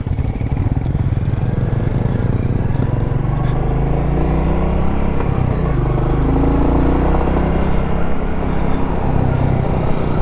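A Royal Enfield 350cc motorcycle engine idles and runs steadily up close, a constant low rumble with a faint rise in pitch partway through.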